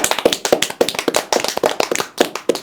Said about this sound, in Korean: 박수 한번 치면서 보겠습니다